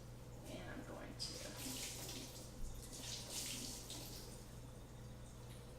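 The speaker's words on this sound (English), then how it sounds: "Go ahead and turn on my water." Kitchen sink tap water running in a home kitchen during cleaning, a steady hiss of flowing water that continues throughout under a low background hum, fairly close and moderately loud.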